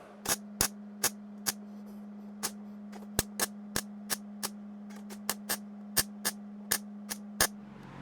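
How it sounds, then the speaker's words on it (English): Welding up a crack in the trunk lid of a Model A coupe hot rod comes through as a series of short, sharp bursts at uneven intervals over a low, constant electrical hum, fairly quiet overall with no voices. "So now I got to weld that crack up."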